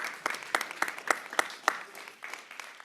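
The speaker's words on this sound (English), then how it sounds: "Please give him a round of applause." Audience applause at a public hearing in the Bronx, New York: a short burst of sparse, individual claps with distinct sharp hits from a modest crowd, fading toward the end.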